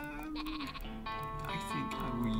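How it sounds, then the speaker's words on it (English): Cartoon sheep bleating in the Worms video game, several wavering bleats in a row over steady game music and background sound. "What are you doing with that sheep, Jana?"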